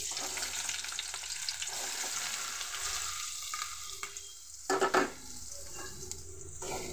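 Chopped onion and green chili pieces frying in hot oil, a steady crackling sizzle with brief clatters of stirring in the pan and no voices.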